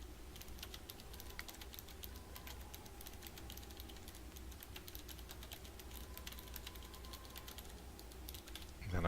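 Rapid, steady clatter of fingers typing on a computer keyboard, soft and close, continuing without pause for several seconds.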